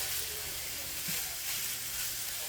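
Sausage browns in a pan with a quiet, continuous sizzle and hiss, faint and even with no voices.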